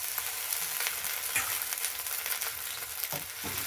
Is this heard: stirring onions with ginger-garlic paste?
yes